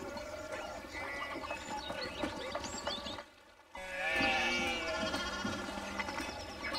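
Sheep bleating in the medieval village of the video game Pentiment, several overlapping wavering calls close by, with a brief quiet gap midway before louder bleats resume.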